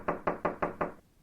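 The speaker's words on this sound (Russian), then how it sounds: "Тишину нарушил настойчивый стук в дверь." Five firm, evenly spaced knocks on a wooden door, loud and close in a quick insistent rhythm, then silence.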